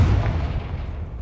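Confringo blasting spell detonating in Hogwarts Legacy, a heavy low boom that fills the short moment and rumbles on without fading, loud and close with no other sound over it.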